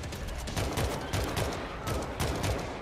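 Semi-automatic rifle fire in the zombie shooter World War Z, a rapid run of sharp, evenly spaced shots at close range, steady and loud with no talking.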